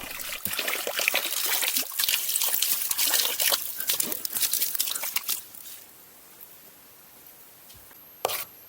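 Water trickles from a spring on a mountain ridge trail, a close, steady splashing and dribbling that stops after about five seconds, leaving quiet with a brief knock near the end.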